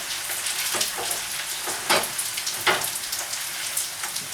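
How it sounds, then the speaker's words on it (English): BBQ pork fried rice sizzles loudly in a hot pan as it is stirred, a dense crackling hiss punctuated by several sharper scraping bursts from the spatula, with no voices. "Stir that rice."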